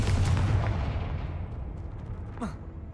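Confringo, an explosive fire spell in the video game Hogwarts Legacy, bursts with a broad rumbling blast that slowly fades, followed by a quick falling whoosh near the end.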